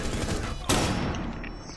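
Rapid gunfire in a video game, a dense crackling volley with one sharp, loud shot cutting through midway, then a trailing rattle.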